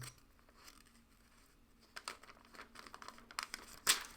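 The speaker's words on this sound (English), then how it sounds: "I'll just tape that right back." Scotch tape pulled and torn off a roll and pressed onto paper at an illustration workspace, quiet crinkles building to a sharp tearing burst near the end, close and faint.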